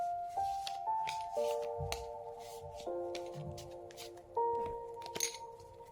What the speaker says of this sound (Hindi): कार्ड्स निकल निकल के गिर रहे हैं आपके लिए।